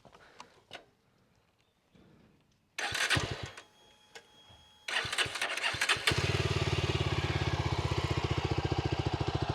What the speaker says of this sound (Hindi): अब ये ड्यूअल एग्जॉस्ट जो है साउंड भी थोड़ा डिफरेंटली करता है, मैं आपको करके बताता हूँ